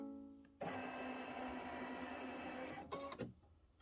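A sewing machine runs a continuous stitching burst of about two and a half seconds for a Santa cinch sack, starting abruptly and then stopping, followed by a few handling clicks; close and clear.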